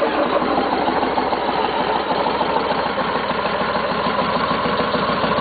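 A Yamaha Road Star Warrior motorcycle idles through a new flat-back exhaust tip with 2.5-inch piping, giving a steady, close, continuous engine rumble with a dense, even chop and no voices.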